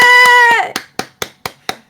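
People on a voice call clapping, a burst of quick claps trailing off into several loud, evenly spaced single claps close to the mic, with a brief tone fading out at the start.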